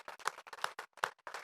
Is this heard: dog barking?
no